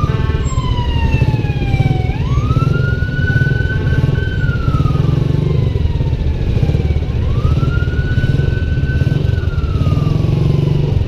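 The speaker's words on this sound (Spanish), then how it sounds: "Ahí va, una ambulancia del seguro." An ambulance siren wails in repeated rising and falling sweeps through heavy, stalled traffic on Monseñor Romero road near Colonia Escalón, loud and close over a constant low rumble of idling engines.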